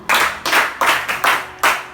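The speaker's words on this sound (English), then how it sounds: "Clap for him." Schoolchildren at a Christian academy clap for a classmate in five distinct bursts, evenly spaced and close, each a short loud flurry of hands.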